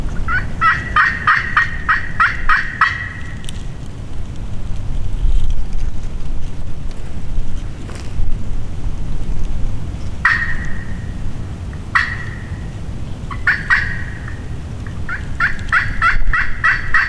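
Wild turkey gobbles ring out in repeated rattling bursts, loud at the start and recurring in shorter calls near the end, from timber in Missouri during a youth turkey hunt, over steady wind and microphone rumble.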